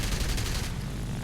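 An Fw 190 A-8 fighter in an air-combat video game fires a short, controlled burst from its guns. The rapid, loud rattle is heard alone and lasts about half a second, then fades into engine noise.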